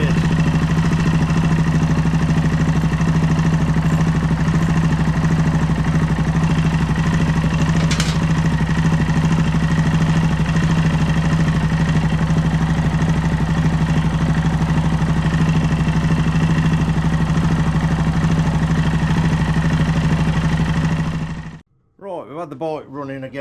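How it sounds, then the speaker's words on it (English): A Yamaha XT660 motorcycle engine idles steadily and loud for about twenty seconds, an even low drone with a constant hum, then cuts off abruptly near the end. "we've had the bike running again for a little while"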